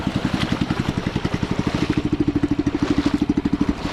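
Single-cylinder hand tractor engine labouring while working a rice paddy, a close, steady rapid thumping chug with a rattling clatter, running alone at a constant pace throughout.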